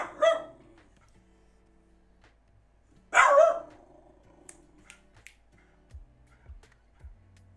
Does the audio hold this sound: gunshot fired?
no